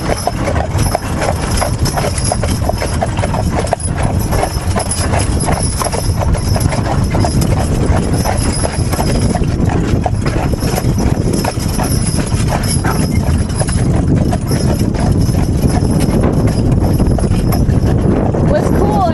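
Percheron draft horses pull a wagon on a Sunday drive, their hooves clip-clopping in a steady, continuous rhythm close by, with wheel and harness noise and people talking throughout.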